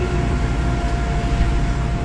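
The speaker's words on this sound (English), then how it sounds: "Right now, what we're doing is we're filling it with water." SCBA decontamination machine on a solo rescue unit filling its tanks with water, a steady loud rushing, churning noise throughout with a faint hum, no voices.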